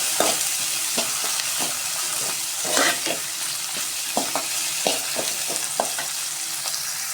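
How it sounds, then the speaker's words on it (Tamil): Chopped tomatoes sauté in a pan for white pumpkin sambar, a steady close sizzle broken by regular scraping strokes of a spatula stirring the mixture. "கட் பண்ணி வச்ச தக்காளியை சேர்த்துக்கலாம். சேர்த்து நல்லா வதக்கி விட்டுருவோம்."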